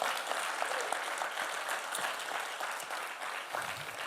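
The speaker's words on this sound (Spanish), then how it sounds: "Démosle un fuerte aplauso" Church congregation applauding during a sermon gathering, a dense steady wash of many hands clapping that holds at even loudness throughout, thinning slightly near the end.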